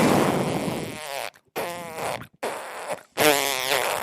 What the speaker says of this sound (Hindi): तब पा दो बैठा ही आराम से पा दो